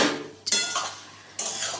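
A spoon scrapes and clinks against a pan while boiled banana flower and chickpeas are stirred together for a banana-flower ghonto with shrimp, two distinct bursts of metallic scraping close by.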